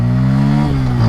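A Bajaj Pulsar N150 motorcycle pulling away in first gear, its engine a loud, steady close-up drone with rising pitch as it accelerates, heard alone without talk.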